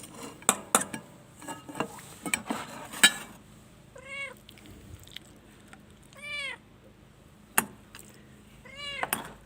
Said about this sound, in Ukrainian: Божевільний кіт.